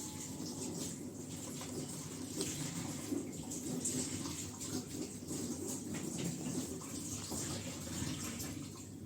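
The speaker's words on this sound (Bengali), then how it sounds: "আমি হাতটা ধুয়ে আসি" A water tap runs while someone washes their hands: a faint, steady stream of water that continues evenly throughout with no voices.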